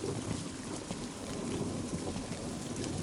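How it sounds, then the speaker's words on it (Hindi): Steady rain pours down in a dense, even patter, with scattered drops hitting surfaces close by in a village setting at night. "बस बारिश का पानी"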